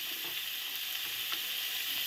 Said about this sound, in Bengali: এই যে নেড়ে নেড়ে সুন্দর করে ভেজে নিচ্ছি